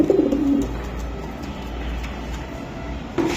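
Racer pigeons, including a silver one, give short throaty coos at the start and again at the end, partly buried under a loud, steady rumbling background noise.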